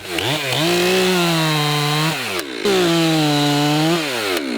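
A chainsaw cuts into a tree trunk during felling, the engine holding a loud, steady whine that sags and climbs as the bar bites the wood, with a brief drop in pitch midway before cutting resumes, close and alone.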